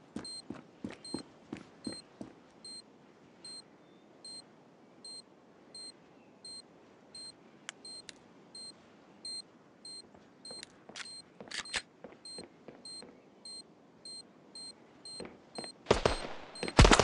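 Planted bomb in the mobile shooter Standoff 2 beeping in a steady, evenly spaced rhythm for well over ten seconds, with scattered gunshots and clicks around it and a loud burst of noise at the end.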